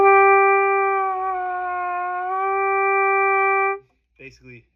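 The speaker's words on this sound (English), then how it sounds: "and all of them have this thing called a lip bend" A single sustained trumpet tone drifts smoothly between pitches in a brass lip bend exercise, loud and close, then stops, followed by a brief voice.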